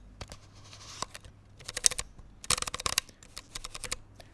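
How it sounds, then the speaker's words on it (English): Aperture blades of a vintage Mamiya Sekor 50mm f4.5 lens snap open and shut in quick bursts of dry metallic clicks, several rapid clusters close to the microphone with short pauses between. "That's what aperture blades should sound like."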